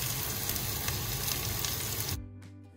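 Chopped onion and a green chili fry in olive oil with a dense close sizzle that cuts off abruptly near the end.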